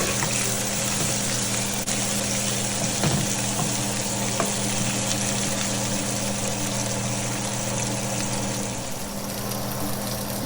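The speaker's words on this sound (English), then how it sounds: "I saute the onions for about 3 minutes. Then I add the garlic cloves" Onions and garlic cloves sautéing in a pan, a steady close sizzle with crackling, continuous and even throughout, with a low hum beneath and no voices.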